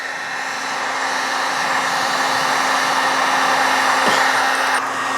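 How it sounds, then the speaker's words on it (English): A heat gun blows continuously while heating a pipe for a small dog tug toy build, a loud, steady, close whirring roar of fan and hot air that holds an even level throughout with no speech. "Just keep heating the pipe up."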